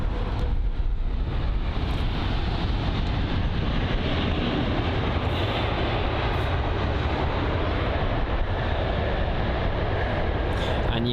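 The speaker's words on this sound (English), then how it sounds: "I know the 747 is really loud when the reverse thrusts are active" Singapore Airlines cargo Boeing 747 landing at London Heathrow runway 27R, a steady loud broadband roar of reverse thrust and engine noise that continues unbroken throughout, fairly close.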